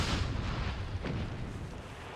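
A trip mine detonates in the Company of Heroes 3 strategy game, one heavy booming blast ringing out amid a rumbling wash of battlefield noise.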